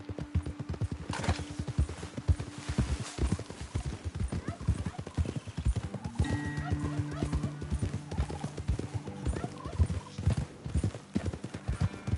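Horses on a hillside trail walk at a steady pace, their hooves clip-clopping in an irregular rhythm close by, with a whinny rising partway through and voices in the background.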